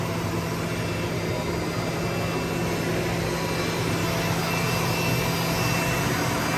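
A 2014 Hurco VM10i CNC mill spindle runs at 10,000 RPM, giving a steady, unbroken whirring hum with a faint constant tone. It stays loud and even for the whole stretch.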